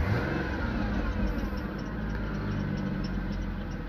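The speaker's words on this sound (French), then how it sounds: "On crée un coup de gaz à 3000." A Ford Taurus engine held revved at about 3000 rpm, a steady mid-pitched drone with a broad roar and high whine, loud and close, with no voices.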